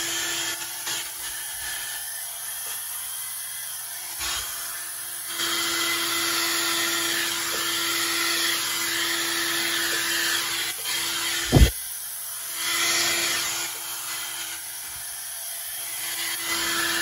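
Air is blown across poured resin treated with cell activator for a bloom effect, making a continuous close hissing whoosh with a few brief breaks and one sharp knock partway through.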